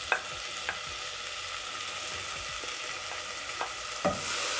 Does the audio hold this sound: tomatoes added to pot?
yes